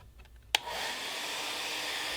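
A blow dryer or heat gun switches on with a sharp click and then runs as a steady, close, even whoosh, used to heat the edges of broken Delrin plastic pieces during a repair.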